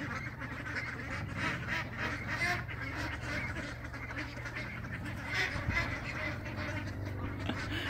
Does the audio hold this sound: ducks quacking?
yes